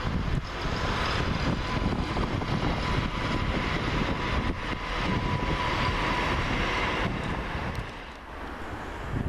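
Class 801 LNER electric trains passing through Peterborough station, a loud, steady rushing roar with wind buffeting that fills the whole stretch and eases slightly near the end.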